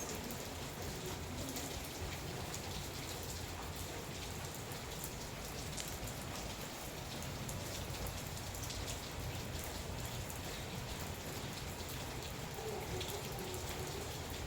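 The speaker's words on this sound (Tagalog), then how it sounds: "Buti na lang medyo humina ang ulan." Steady rain easing off outdoors in General Santos, a continuous even hiss of drops falling on surfaces, moderate and unbroken throughout with no voices.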